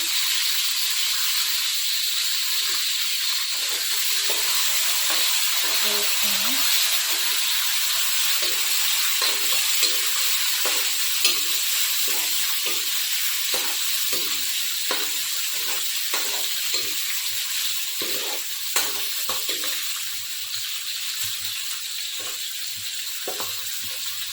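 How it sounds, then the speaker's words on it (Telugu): Eggs and green chillies fry in hot oil with a strong, steady sizzle and hiss, broken by repeated scrapes and stirring strokes of a spatula in the pan throughout. "నూనె అయితే వేగింది, గుడ్లు అయితే వేసుకున్నాం."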